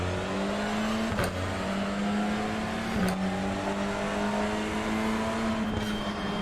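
A race car engine in the iRacing sim holds a steady high drone at full throttle. Its pitch climbs and drops as it shifts through the gears, with no voices over it.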